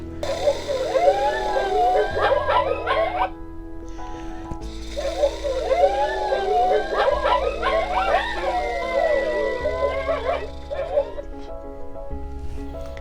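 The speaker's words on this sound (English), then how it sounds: "you may hear the magical howl of Coyote" A chorus of wavering, yipping howls like coyotes rises and falls in two long stretches, fairly close, over a low steady background.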